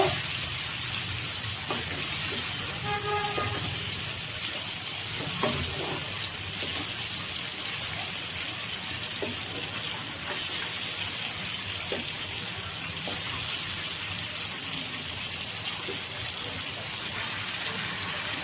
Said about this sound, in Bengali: আমি এখন টমেটো বাটা দিয়ে ভালোভাবে মশলার সাথে আবার কষিয়ে নিব।